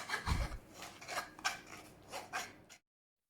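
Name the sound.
cream being pressed through a chinois sieve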